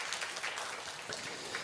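Applause from a church congregation for its elders during a Sunday afternoon worship service, a short steady patter of many hands clapping at moderate volume with no talk over it.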